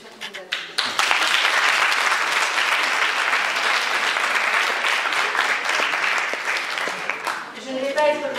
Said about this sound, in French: on peut vous féliciter et surtout vous applaudir